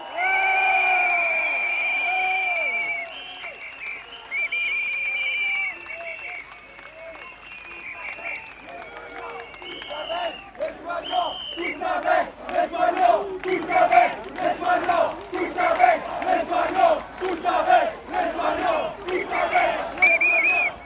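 A large outdoor protest crowd whistles, cheers and shouts, then breaks into rhythmic chanting and applause that rises and falls in loud bursts.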